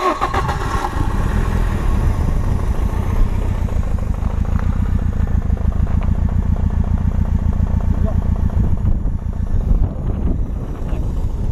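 A turbocharged BMW E36 318is engine idles, blowing blue smoke, with a low, steady rumble and fast rhythmic pulsing, loud and close throughout, with faint voices underneath.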